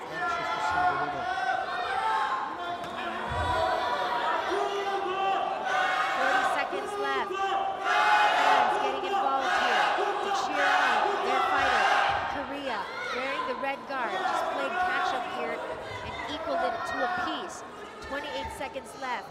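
Arena crowd at a taekwondo semifinal between China and Korea at the Asian Taekwondo Championships, with Korean and Chinese fans shouting and cheering. The roar is loud and sustained, surging in waves, with voices mixed throughout.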